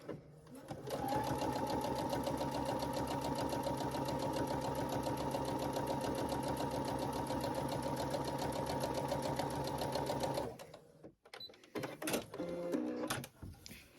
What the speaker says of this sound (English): So a 1/4 inch away from that line is where I sew.